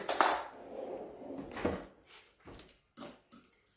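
Meatball mixture of egg, minced meat and spices being mixed in a bowl, with olive oil waiting in a pan, heard as a few close, soft clinks and knocks of a utensil, spaced irregularly amid quiet pauses, with no talking.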